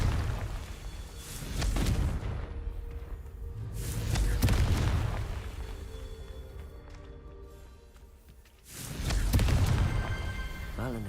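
Confringo blasting spell explosions in Hogwarts Legacy on PS5: three heavy booming blasts spaced a few seconds apart, each with a deep rumbling tail that fades before the next.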